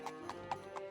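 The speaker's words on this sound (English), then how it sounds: "it also kind of sounds like a horse," Hooves of a giant goat mount in the Daggerfall Unity game clop like a horse: four evenly spaced hoof strikes in under a second over a steady low ambient drone, with no talking.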